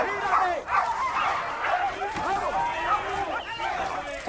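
Several dogs barking, yipping and whimpering throughout, medium distance, under steady overlapping Spanish-speaking voices at what sounds like a dogfight gathering.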